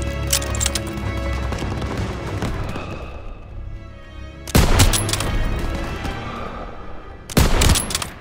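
Rapid gunfire from the World War II shooter game Call of Duty: WWII, with sustained bursts of automatic fire and sharp close shots, a brief lull, then further loud volleys in a chaotic battle.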